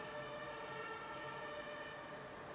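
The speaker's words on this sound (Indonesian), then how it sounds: "ada sirine tiu tiu" Siren wailing outside on a street, a steady sustained tone held at moderate distance throughout under constant background noise, with no talking.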